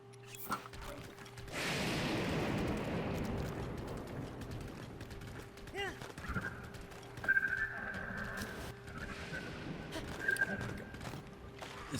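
Horse hooves clip-clop in the video game Breath of the Wild, a steady run of hoofbeats under game ambience with a faint chiming tone and someone talking over it.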